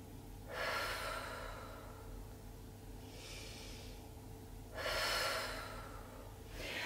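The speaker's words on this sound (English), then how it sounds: "Couple of nice breaths in and out." Slow, deep breaths in a quiet room during a children's Pilates shell stretch, with two long airy inhale-exhale cycles rising and falling close to the microphone and no talking.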